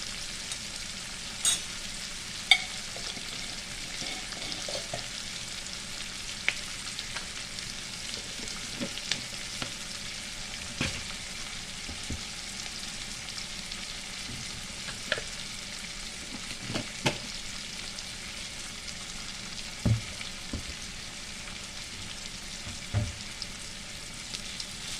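Masala dosa filling fries in a pan with a steady, close sizzle, broken by scattered clicks and scrapes as it is stirred, with no one talking.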